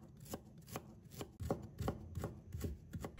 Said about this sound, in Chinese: 然后切成姜末。